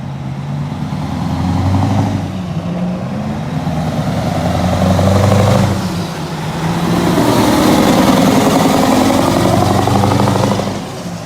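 Mack E7 diesel truck engine running loud and steady, a deep rumbling drone with slow swells in intensity and no talk over it.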